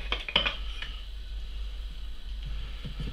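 A metal lid clatters onto a loaf tin of head cheese, with a few brief clanks near the start, then only a low steady hum for the rest.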